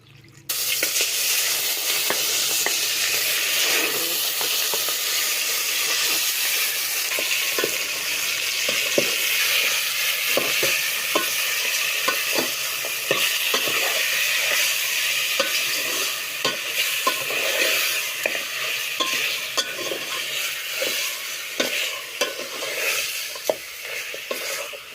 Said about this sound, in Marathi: तर आम्ही ह्याला देतोय फोडणी.